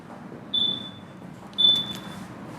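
A 2019 Yamaha XMAX scooter left with the ignition on gives two thin high-pitched electronic beeps, fairly close, over faint background hiss.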